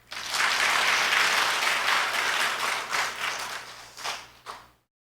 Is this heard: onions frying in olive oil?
no